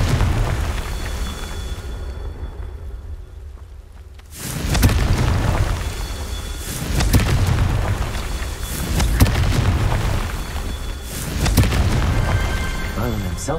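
Confringo spell blasts in the Hogwarts Legacy video game during a Merlin trial go off as several loud, booming explosions, each a sudden burst with a rumbling tail, spaced a few seconds apart after a quiet lull.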